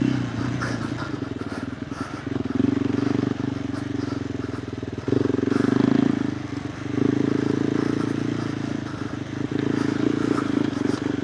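A KTM 390 Adventure R motorcycle with a Norifumi Whoops aftermarket exhaust is ridden, its single-cylinder engine droning steadily and rising and falling with the throttle under wind rumble.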